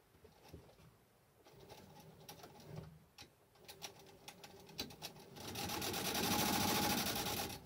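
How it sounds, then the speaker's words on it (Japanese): A sewing machine stitches leather in a leathercraft workshop; scattered clicks and taps come first, then a steady, close mechanical whir runs for the last couple of seconds. "ミシン縫い終わり"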